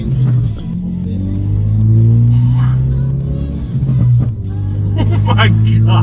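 Ford Focus RS engine heard from inside the cabin, loud booming drone that rises and falls with revs, with people talking excitedly over it.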